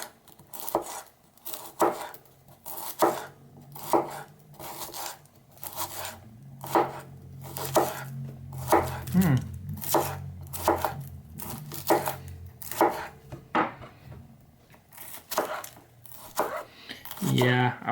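Repeated sharp crunching chops of a Helle Viking knife slicing through a firm potato, about one cut per second, close and crisp, with low murmuring talk partway through.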